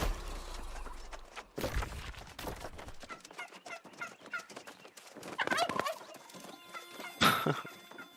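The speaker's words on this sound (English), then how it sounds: "I love the turkeys, the sound of them." Turkeys gobble in a video game, several loud rattling gobbles bursting out in quick succession over layered game effects and a busy background.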